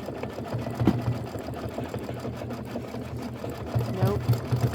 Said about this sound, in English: Got like a minute left of stitching.